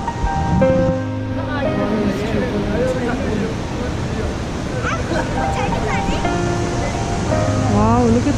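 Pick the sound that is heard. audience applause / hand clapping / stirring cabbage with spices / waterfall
waterfall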